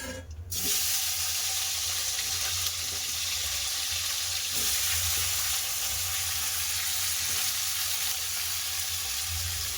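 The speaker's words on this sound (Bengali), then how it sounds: "তেল আছে মাছের তেল ওদের কাঁচকলা আলু ভেজে নেবো" Raw plantain and potatoes frying in leftover fish oil, a loud continuous sizzle close by after a brief quiet start, with faint clatter in the background.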